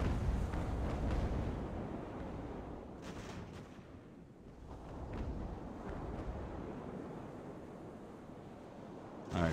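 Naval cannon fire rumbles through a sailing-ship battle in Ultimate Admiral: Age of Sail, with dense, muffled booms blending into a continuous low roar over several seconds.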